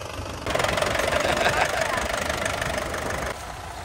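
A tractor engine hammers along while harrowing a field, a steady loud knocking drone that steps up in intensity as the throttle is opened and holds high before easing off near the end.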